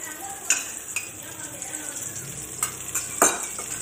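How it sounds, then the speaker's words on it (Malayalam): Coconut oil spooned into a pan of masala sizzles and fries steadily, with a few sharp clinks of a spoon or utensil against the pan, close up. "Here I M adding 3 spoon of coconut oil to it."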